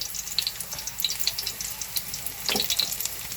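Onion and garlic sizzle and crackle in a hot pan, a steady close frying hiss with scattered pops and a brief stir scrape partway through.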